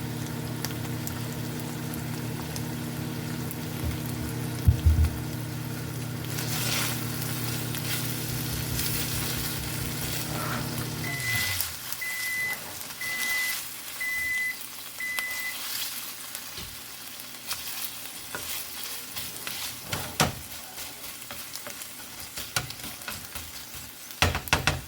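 Vegetables sautéing in a pan for Louisiana-style red beans, a steady close sizzle and hiss with faint stirring scrapes, loud at first and then quieter and sparser as the cooking settles.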